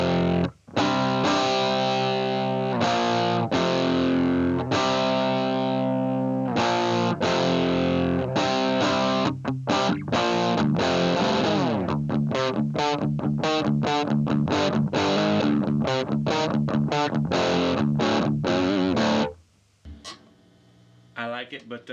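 An Epiphone Les Paul Custom Pro on its humbucker pickups plays through a Fender Vaporizer amp with the reverb off: distorted chords and riffs, ringing sustained chords at first, then choppy rapid strummed stabs, ending abruptly.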